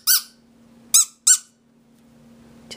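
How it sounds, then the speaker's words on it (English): A vintage 1976 Regent Baby Products rubber squeak girl doll squeezed by hand, giving three short bright squeaks, the last two close together, with a fourth starting at the end, close up over faint background hum. "Just a nice cute little squeaky toy."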